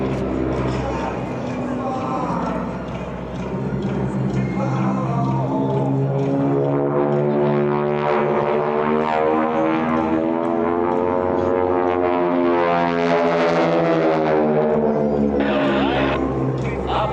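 Titan Aerobatic Team propeller planes drone overhead at an air show, engine tones sweeping up and down as they pass, loud and continuous beneath an announcer's voice.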